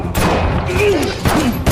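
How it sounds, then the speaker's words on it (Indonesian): Gunfire in a scene from the 2021 action film Payback, loud dense shots and booms with a brief lull, then another burst, filling the moment. "melihat Mike yang butuh bantuan, Randy menembakkan senjata kepada mereka dari jauh."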